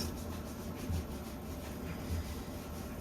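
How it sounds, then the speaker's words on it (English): Whisk working a quarter cup of all-purpose flour into melted butter for mac and cheese, a steady close scraping and rubbing against the pan with faint rhythmic strokes. "I am going to dump in a 1/4 cup of all-purpose flour, and I'm going to whisk"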